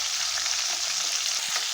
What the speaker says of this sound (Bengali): মাছগুলোকে লাল করে ভেজে নেব।